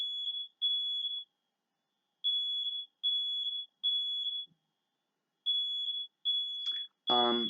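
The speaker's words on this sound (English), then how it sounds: "my smoke alarm's going off." A household smoke alarm chirps in a repeating pattern of short high beeps with gaps between bursts, fairly loud and alone in a quiet room, ending as a voice briefly begins.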